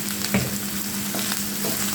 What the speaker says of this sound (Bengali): হালকা পেঁয়াজের সাথে ভেজে নিচ্ছি